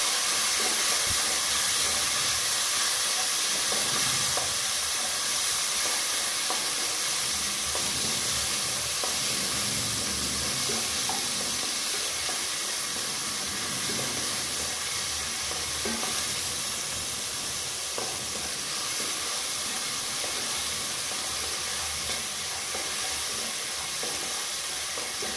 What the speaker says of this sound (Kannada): ಇಲ್ಲಿ ಇದನ್ನು ಹಾಕ್ತಾಯಿದ್ದೀನಿ ನೋಡಿರಿ, ಈರುಳ್ಳಿ ಹಾಕ್ತಾಯಿದ್ದೀನಿ.